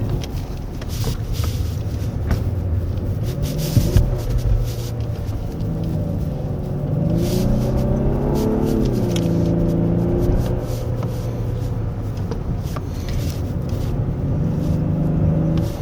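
A steady, low synthetic engine hum plays inside a moving 2024 Genesis G80 3.5 turbo AWD on a winding road, rising and falling in pitch as it accelerates, with road rumble underneath.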